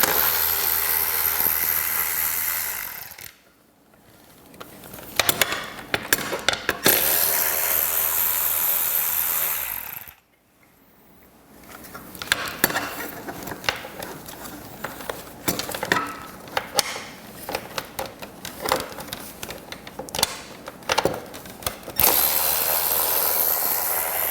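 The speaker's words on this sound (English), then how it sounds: "So I'm going to start removing these bolts." A power tool removes bolts from car audio pods in bursts: loud whirring runs broken by pauses, then clicks and rattles of handling between runs.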